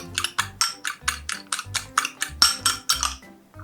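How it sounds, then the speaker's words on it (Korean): Egg whites whisked in a bowl give a quick, even run of about fourteen scraping, clinking beats, close and clear, with no voices. "그리고 흰자를 풀어주세요."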